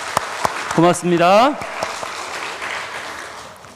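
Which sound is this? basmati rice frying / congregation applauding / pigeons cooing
congregation applauding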